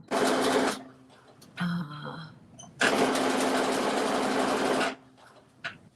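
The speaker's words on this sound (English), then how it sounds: "I'm going to do a basting stitch all the way around" A sewing machine runs a basting stitch around fabric held with clips, in two steady bursts, a short one at the start and a longer one later, with quieter handling sounds between them.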